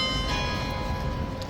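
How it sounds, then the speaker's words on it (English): A bell rings out at the horse guard post in London, a sustained resonant tone with steady overtones that holds loud for a moment and slowly decays, with no voices. "there's the bell, guys."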